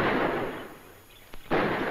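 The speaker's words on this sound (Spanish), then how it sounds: "¿Oyes esos disparos?" Gunfire in a 1961 Mexican film scene, heard as broadband cracking bursts that fill the start and end of the clip, with a short sharp pop near the middle and a quieter gap in between.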